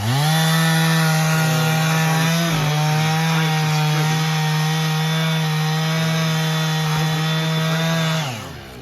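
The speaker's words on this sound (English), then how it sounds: "He's got that saw tuned up good and it's cutting good." A well-tuned Husqvarna chainsaw cuts winter firewood with a loud, steady, close engine drone held at high revs for about eight seconds. The drone drops off near the end and there is no talking.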